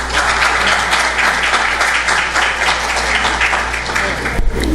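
Sustained audience applause welcoming Dr. Carol Velásquez to the stage at a conference, steady dense clapping throughout, tapering off at the very end.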